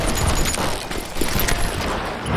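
Gunfire from a posse in the Western shooter Call of Juarez Gunslinger, a rapid scattered volley of shots with low booms, moderately loud and continuous across the short stretch, with no voices over it.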